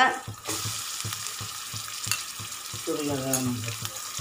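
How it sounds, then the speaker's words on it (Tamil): Prawns and onions fry in oil as a spoon stirs them, giving rhythmic scraping strokes about twice a second over a continuous, close sizzle. "இந்த எண்ணெயிலேயும் இது நல்லா இப்படி கிளறி விட்டுக்கோங்க"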